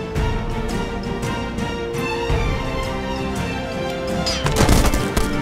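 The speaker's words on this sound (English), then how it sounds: "And she's still getting shot." Gunfire during a firefight in Jagged Alliance: Back in Action: repeated sharp shots and bursts, steady for most of the stretch and then a louder, denser volley near the end.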